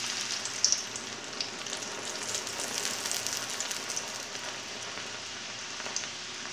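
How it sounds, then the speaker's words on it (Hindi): Moong dal frying in oil on medium heat gives a steady, close hiss and crackle with dense fine sizzling throughout and a few sharper pops. "अब मैं दाल फ्राई करती हूँ। ये मीडियम आग पे फ्राई करनी है आप लोगों ने।"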